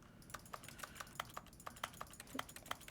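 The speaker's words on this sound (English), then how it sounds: "when I click, it sounds like the keyboard noise?" Clicking noises resembling computer keyboard keys sound in The Stanley Parable: Ultra Deluxe, a steady quick run of light, faint taps, each click sharp and separate.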